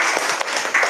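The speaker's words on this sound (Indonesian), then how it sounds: "kita tepuk semangat dulu ya" Class group doing a rhythmic spirit clap together, a short burst of many hands clapping in unison, loud and near, lasting under a second with no talk.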